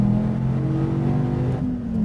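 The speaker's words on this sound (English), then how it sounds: "SRT Viper GTS going down the front straight at Laguna Seca" An SRT Viper GTS with an 8.4-liter V10 accelerates hard down the front straight at Laguna Seca, a loud, steady engine roar that holds throughout with a slight pitch shift near the end.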